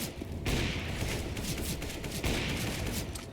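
Sustained gunfire fills a Counter-Strike match, with dense overlapping bursts of rifle fire that swell at the start and again near the end, loud and continuous with no voices over it.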